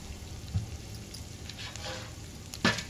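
Semolina (rava) frying in a pan for drumstick upma, salt added, giving a low steady sizzle and hiss with a few brief stirring scrapes and one louder scrape near the end, close by and without talk.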